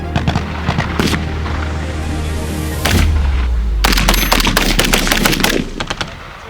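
A rifle fires at a target 100 metres away on a shooting range: several loud, sharp cracks ring out in quick succession, close by, with booming echoes trailing after them.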